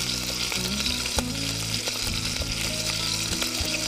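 Pieces of chicken coated in olive oil fry in a pan with a dense, continuous sizzle and crackle. Faint stirring clicks and scrapes come through now and then, and nobody speaks.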